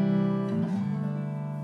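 Electric guitar picked with a thick, rounded pick, a single sustained chord or note ringing warm and close, with a second attack around the middle and a steady decay, no voices.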